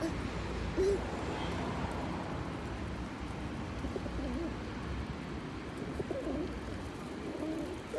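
Pigeons being fed coo softly and repeatedly in a low, throaty murmur amid outdoor ambience, with faint voices in the background.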